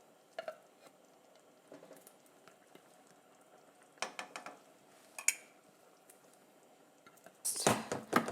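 Pot and lid handled while making homestyle chili, with soft metallic clanks and scrapes scattered through a quiet kitchen and a louder, denser clatter near the end as the lid goes on.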